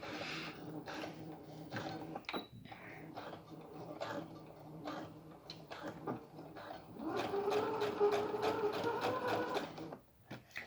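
A sewing machine stitches a zipper pouch in bursts of close, rapid mechanical needle clatter, stopping and starting with short pauses before a longer steady run near the end.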